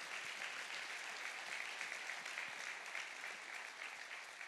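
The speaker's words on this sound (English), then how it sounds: "let's give all the people that showed up a round of applause" A church congregation applauds steadily, a dense, even wash of clapping that holds loud and unbroken for the whole stretch with no voices standing out.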